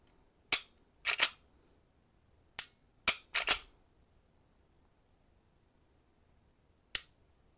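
A PSA Dagger pistol gives sharp, close mechanical clicks from repeated dry trigger pulls. There are six isolated snaps, some in quick pairs, with silence between them.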